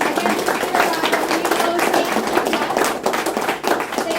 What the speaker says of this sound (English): round of applause for everybody for coming